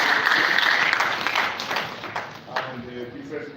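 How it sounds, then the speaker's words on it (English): Conference audience at an Africa Industrialization Day event applauds the panelists, a short round of clapping that tapers off with voices audible underneath. "the panelists deserve another round of applause"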